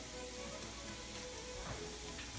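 Diced garlic sizzling with onions in a pan for a simple spaghetti sauce: a faint, even, continuous frying hiss, brief and steady with no talking.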